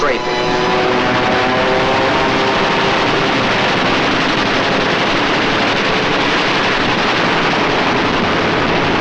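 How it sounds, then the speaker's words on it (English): Wartime aircraft engines roar continuously during a strafing attack on the Eastern Front against German forces, a loud droning that fills the whole stretch with a narrator's voice speaking over it. "Now it was for the Germans to learn the terrors of strafing."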